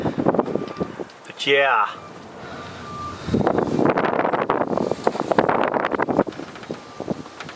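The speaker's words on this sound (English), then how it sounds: "This wind is just a whipping out here." Strong wind whipping outdoors, buffeting the microphone with rough low rumbles and gusts under a voice, with a short rising electronic tone near the start.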